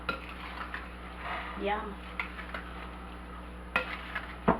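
Fruit being tossed with cornstarch and melted butter in a bowl for a cobbler, heard as quiet scattered scraping and clinking of a utensil against the bowl, with a few sharper taps and a brief spoken word.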